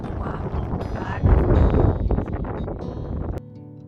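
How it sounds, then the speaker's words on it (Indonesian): Strong wind gusting outdoors in a rural backyard in Russia in winter, buffeting the microphone with loud, steady roaring rumble that swells midway and then cuts off abruptly near the end. "Angin cukup kencang di sini, jadi suara saya tidak terdengar."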